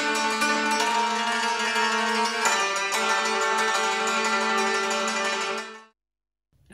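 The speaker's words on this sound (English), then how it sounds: "Sort of a tremolo sound." A sampled cimbalom from a Kontakt library plays a dense, continuous tremolo of rapidly repeated hammered strings, shimmering and loud for about six seconds before cutting off into silence.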